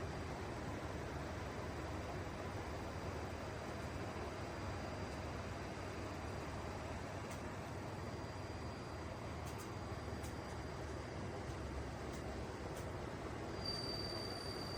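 Dreo bladeless tower fan running at increased speed, a steady dense whooshing rush of air, constant and fairly faint with no talking.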